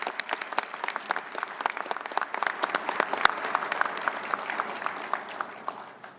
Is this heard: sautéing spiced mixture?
no